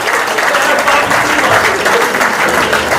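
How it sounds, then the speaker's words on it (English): An audience at a community association event gives steady, dense applause that fills the room for a few seconds. "round of applause for our Commissioner Patrick Ryder"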